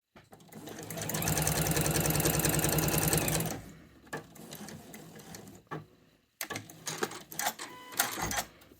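A sewing machine runs steadily for a few seconds, stitching piping cord inside folded fabric for a piped cushion cover, then gives several shorter bursts, close and clear.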